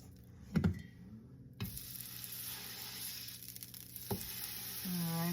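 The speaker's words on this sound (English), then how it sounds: "the skillet is nice and hot. I'm gonna take our spatula, get this burger out of here" Burger patty sizzling in a hot skillet, with a few sharp spatula scrapes and knocks against the pan over a steady frying hiss, plus a rising tonal whine near the end.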